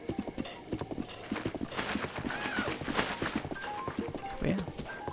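Horse hooves clip-clop at a steady walking rhythm in the video game The Legend of Zelda: Breath of the Wild, close and continuous, with soft melodic game music notes floating over the gait.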